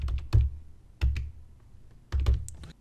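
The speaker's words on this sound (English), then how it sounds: "And I'm going to type in the password for that." A password being typed on a computer keyboard: three short clusters of close keystrokes separated by brief pauses, with a few lighter taps in between.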